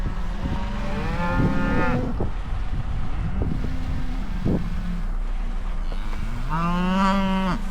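Cows moo loudly and close by in a snowy winter field, several long drawn-out calls rising and falling over steady wind noise on the microphone.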